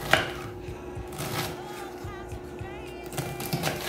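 A knife dicing onion into small cubes on a board for vinaigrette, with irregular soft chopping taps, while a voice speaks intermittently underneath.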